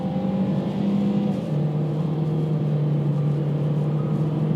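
A Ford Escape 2019 SEL engine drones loudly from inside the cabin, its tone shifting once as it pulls hard under full throttle, a steady sustained roar with no talking.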